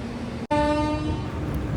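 An Ajni shed WAP7 electric locomotive at Nagpur Junction sounds a steady, tonal horn blast after a brief dropout. The horn is clear and sustained over platform noise.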